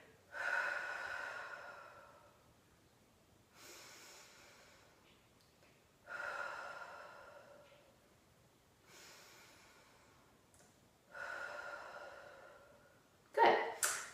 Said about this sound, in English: So breathe in and expand.